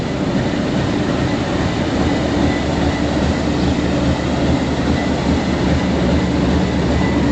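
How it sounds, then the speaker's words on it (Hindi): A General Electric USA 2000 horsepower diesel locomotive with its train on a foggy morning, giving a loud, steady, continuous rumble with constant mechanical roar and no break throughout. "बहुत ही ज़बरदस्त जनरल इलेक्ट्रिक USA का लोकोमोटिव, 2000 हॉर्स पावर का"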